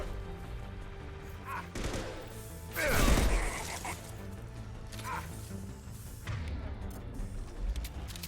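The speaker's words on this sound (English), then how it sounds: "Firing concussive shot." A concussive shot fired in a video game: a single heavy, booming blast with a crashing tail, over a dense bed of game noise and battle sounds, no talking.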